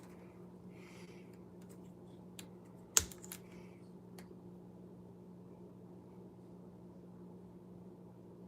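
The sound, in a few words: typing on a computer keyboard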